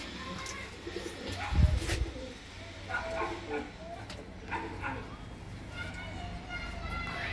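Kalsira Teddy pigeons coo softly in bursts against background noise, with a sharper thump partway through and a faint dog-like bark mixed in.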